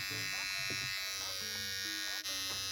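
A Kiepe Zero Estremo Evo electric hair trimmer runs with a steady, high-pitched buzzing whir, constant and close, while a voice murmurs faintly underneath.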